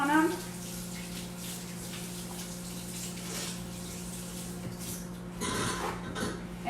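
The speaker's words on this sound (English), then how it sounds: "let me wash my hands." Tap water runs steadily while hands are washed after cutting avocado in a home kitchen during fajita prep, a constant low hiss with brief splashing bursts near the end.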